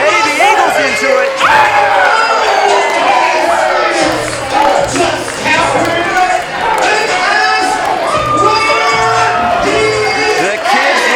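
Crowd at a wrestling show in Orangeburg cheering and whooping loudly and continuously, with voices yelling over a dense, steady roar of noise.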